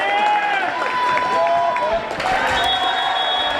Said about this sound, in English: Peabody crowd is real vocal.